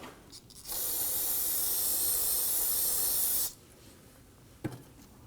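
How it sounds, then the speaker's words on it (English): An aerosol can of solvent cleaner sprays in one continuous hiss lasting about three seconds, then stops, followed by a quiet pause and a short clunk, during front brake hose replacement on a Nissan Murano. "I'm going to spray it with some spray solvent to clean that up"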